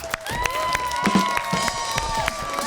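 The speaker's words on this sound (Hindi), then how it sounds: "ब्लू डॉल्फिन्स के लिए तालियां।" Studio audience at a children's game show claps and cheers for the winning Blue Dolphins team, a steady crowd roar with scattered sharp claps and shouts running throughout, loud and close.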